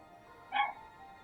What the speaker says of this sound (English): Oh, the puppy's barking.